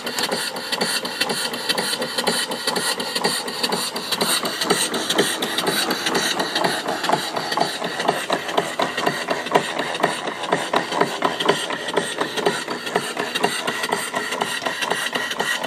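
A mill steam engine with a flyball governor runs steadily, giving a dense, continuous mechanical clatter with fast regular beats at an even, moderately loud level throughout, and no voices.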